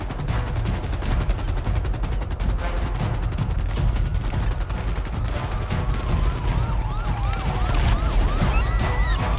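Rapid bursts of gunfire crackle over a wailing police siren during a raid in GTA 5, the shots dense and loud throughout while the siren sweeps up and down in the background.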